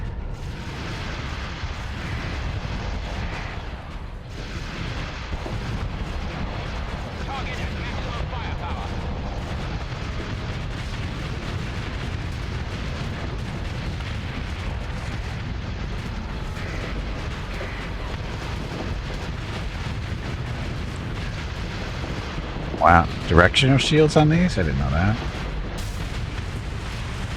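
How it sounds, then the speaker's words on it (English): Rumbling, booming space-battle explosions in the Starsector video game, a continuous low roar with a sharper burst of blasts near the end, while someone talks over it. "The explosions are pretty."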